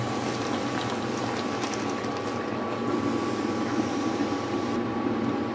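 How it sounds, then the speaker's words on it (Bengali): A covered pot of fish curry with cauliflower simmers on the stove, a constant, even bubbling hiss that holds steady throughout. "এখন আমি ঢাকা চাপা দিয়ে এটাকে আরও 5 মিনিটের জন্য জাল করে নেব"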